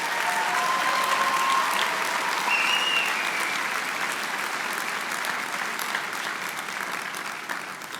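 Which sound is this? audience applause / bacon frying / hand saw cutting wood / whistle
audience applause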